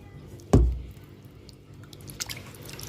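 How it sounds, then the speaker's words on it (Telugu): Pieces of raw liver being rinsed by hand in a big bowl of water: one sharp splash and slosh, then soft wet squishes and drips close by. "పెద్ద గిన్నెలో ఎక్కువ వాటర్ తీసుకొని దానిలో చక్కగా నీట్గా జాడించుకోవాలన్నమాట"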